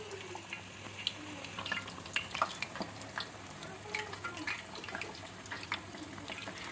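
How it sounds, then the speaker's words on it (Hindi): Round potato chips frying in hot oil give a steady, dense sizzle and crackle, moderately close, with no talking. "जब तक ये फ्राई हो रहे हैं"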